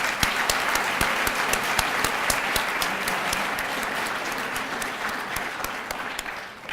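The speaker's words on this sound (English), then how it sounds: "Let's give these people a round of applause." A crowd applauds steadily, with dense, continuous clapping that carries on at an even level from start to finish.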